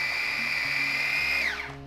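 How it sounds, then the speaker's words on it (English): A food processor whirs steadily with a high motor whine while chopping cauliflower and parsley, then winds down as the blade slows at the end; loud and close, with no talk. "I'm gonna give a few good pulses in my food processor"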